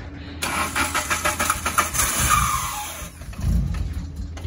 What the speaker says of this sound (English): Rev it up, clear it up, clear it up, clear it up. Keep the RPM up.